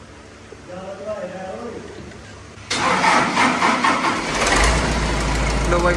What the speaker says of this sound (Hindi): लो भाई मार ली सेल्फ अपने स्वराज में